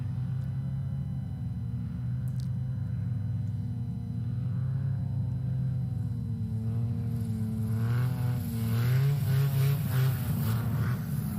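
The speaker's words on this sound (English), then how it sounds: "listen to that engine" A Yamaha 998 engine powering a STOL aircraft at a practice event drones steadily with a loud, continuous rumble. Its pitch wavers and then swells louder toward the end as it revs up.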